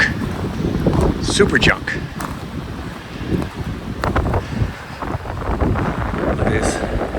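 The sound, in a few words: strong wind during snowy winter land clearing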